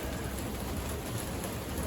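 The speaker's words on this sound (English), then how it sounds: "Oh man, it's raining again." Rain falling outside while someone works under a Land Rover Discovery 2, a soft, steady hiss of drops on surfaces, faint and continuous for a couple of seconds.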